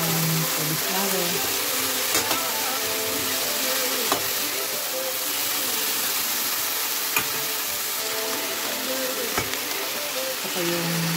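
Cauliflower frying in a pan gives a steady, close sizzle and hiss throughout, broken by a few sharp clicks and knocks of stirring.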